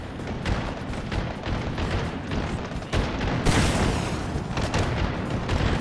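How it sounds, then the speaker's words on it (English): Repeated gunfire and booming shots in the VR shooter Hot Dogs, Horseshoes & Hand Grenades, a dense rumbling battle soundscape with overlapping bursts, louder sharp cracks partway through, continuing steadily without a break. "So where is everybody fighting at? I hear lots of gunfire."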